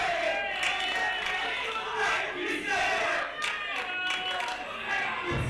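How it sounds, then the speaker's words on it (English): A wrestling event crowd shouts and roars continuously, a loud dense mass of voices with chants and cheers swelling and dipping, scattered clapping mixed in. "listen to this crowd"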